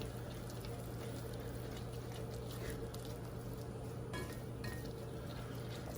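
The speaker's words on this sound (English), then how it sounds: "And we're going to stir this all up." No-bake cocoa peanut butter cookie mixture being stirred in a pot on the stove, a quiet continuous wet scraping and sloshing with faint spoon clinks over a low steady hum.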